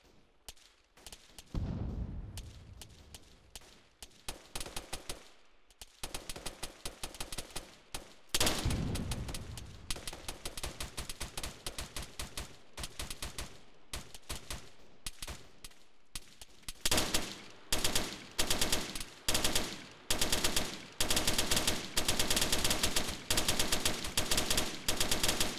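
Gunfire and machine-gun fire come from a tree line about 300 meters away. Scattered distant shots build into rapid, closely spaced bursts that grow louder and denser toward the end.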